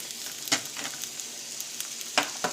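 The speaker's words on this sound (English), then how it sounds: "Drop in those onions. Just a little bit of butter." Onions frying in a little butter in a pan, a soft continuous sizzle with a few sharper crackles and pops, close and fairly quiet, with no talking.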